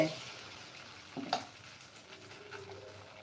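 Appam batter poured onto a hot pan, then a soft, faint sizzle of frying with small clinks and scrapes, quiet and close.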